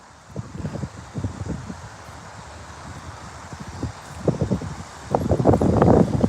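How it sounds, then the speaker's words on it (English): Gusty outdoor wind buffets the microphone in uneven rushes, building to a stronger, sustained roar in the last second or so. "Ooh, it's gusty out here today."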